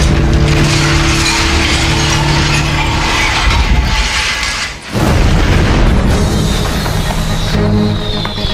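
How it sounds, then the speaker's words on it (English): Fireworks explode continuously during a fire at a British fireworks factory, a loud, dense barrage of booms and crackles with a brief dip near the middle before the blasts resume. "They are the results of a stray spark inside a British fireworks factory."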